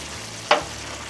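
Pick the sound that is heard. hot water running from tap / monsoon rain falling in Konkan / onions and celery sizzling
onions and celery sizzling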